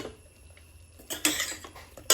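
Metallic clinks and clatters as the lid of a pressure cooker holding kalan curry is twisted open, quiet at first, then sharper rattles toward the end.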